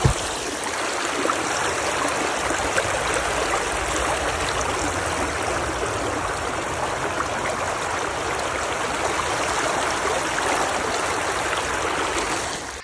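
Water rushes steadily through a stream around a person standing in it while testing neoprene-topped boots, a continuous close broadband gush with no talk and no break for the whole stretch.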